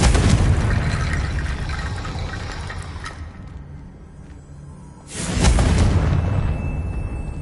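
A Confringo blasting spell from Harry Potter erupts as a loud, roaring explosion that slowly fades, followed a few seconds later by a second sudden, heavy blast that rumbles on to the end.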